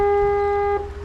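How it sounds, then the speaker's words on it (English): Foghorn sounding near a fishing spot, one sustained, steady low horn blast that fades after about three-quarters of a second, with faint outdoor background. "Looks like they fixed the foghorn."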